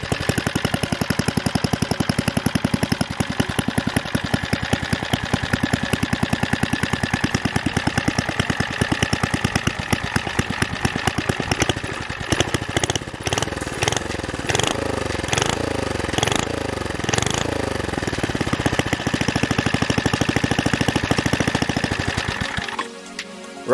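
A warm Briggs and Stratton engine on a trike runs steadily, giving a close, loud, rapid chugging beat that stays even for about twenty seconds before cutting off.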